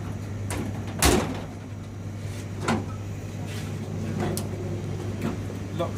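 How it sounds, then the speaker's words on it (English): The bottom door of a Costa Express coffee machine swings shut with one firm thud, and a few lighter knocks follow over a constant low machine hum in an indoor space. "close the bottom door."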